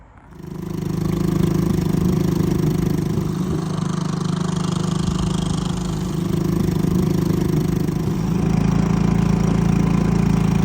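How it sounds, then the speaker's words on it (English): A new outboard motor on a sailboat tender starts and then runs steadily with a loud, close, buzzing mid-pitched drone that holds an even rhythm throughout. "we're going to take the tender, pop it on, just give it a little blast around the harbour"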